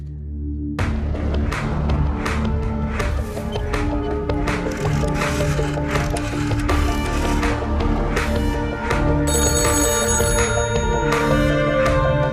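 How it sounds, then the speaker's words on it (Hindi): A telephone rings on and on in a cabin, with repeated trilling bell bursts layered over a busy, dramatic music bed that stays loud from start to finish. "अकबर के कैबिन का फोन लगातार बज रहा है।"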